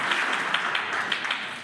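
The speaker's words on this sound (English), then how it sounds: "give our bartenders a big round of applause" An audience applauds bartenders at a supper-club community event, a short burst of moderate clapping from a crowd nearby.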